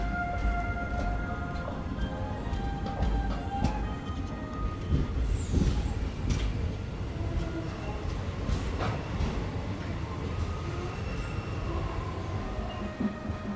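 A train pulls out of Mandapam station, the last stop before Pamban Bridge, heard from inside as a continuous rumbling rail roll with squeaks and clanks throughout and a brief high screech midway, with faint voices in the background.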